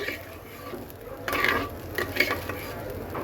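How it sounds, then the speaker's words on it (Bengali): Rice for vegetable pulao with soybeans is stirred and fried in a pan, with a soft sizzle under scraping strokes that swell into louder bursts toward the end, close by, without speech. "চালটাকে সুন্দর করে ভাজতে হবে"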